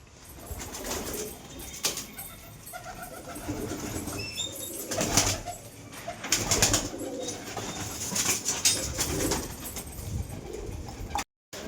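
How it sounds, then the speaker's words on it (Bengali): Pigeons coo nearby while wings flap in several bursts as a newly flown pigeon and others take off and settle, with no voices present. "নতুন কবুতরটা উড়ালাম, খুব কষ্টে বাড়িতে বসালাম"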